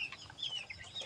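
Soft, faint clucking from red chickens kept for laying, a few short high calls over a quiet background.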